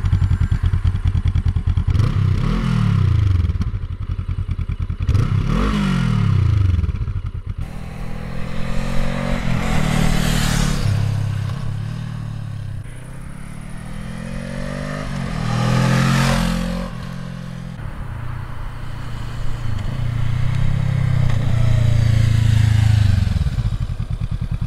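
A Honda CL500 motorcycle engine runs loud and close, revving up and settling back in repeated surges, with mechanical clatter between throttle blips.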